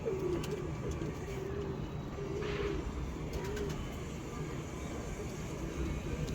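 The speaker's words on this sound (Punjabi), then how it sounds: "ਚੈੱਕ ਕਰੋ ਕਬੂਤਰ" Pigeons in a breeding loft cooing: soft, low, rhythmic coos repeat at close range over steady background noise, with a faint aircraft hum in the distance.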